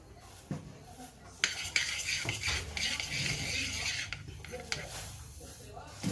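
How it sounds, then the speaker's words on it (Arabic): Sesame seeds being stirred into a warm mixture of butter, sugar and glucose for nougat, a spoon scraping and clinking against the pot in uneven strokes, close and fairly soft. "دابا غادي نزيد 150 غرام ديال الزنجلان وغنحرك"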